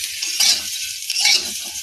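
Chalta (elephant apple) pickle is stirred in a hot pan with whole fennel seeds. Two scraping, sizzling sweeps of the spoon come in quick succession, close and moderately loud.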